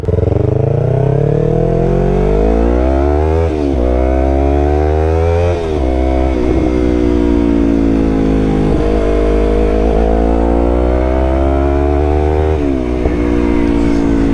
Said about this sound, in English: the bike sounds so much better with that M4 exhaust on there.